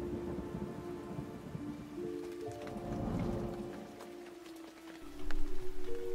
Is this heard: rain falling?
yes